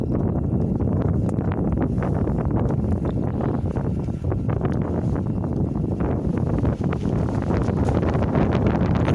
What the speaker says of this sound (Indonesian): Anginnya cukup kencang dan membuat kamera jatuh.